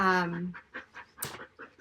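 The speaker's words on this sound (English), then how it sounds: "I've got dogs, I'm sorry, they're panting at me." A dog pants in quick, rhythmic breaths close by after a short vocal sound at the start.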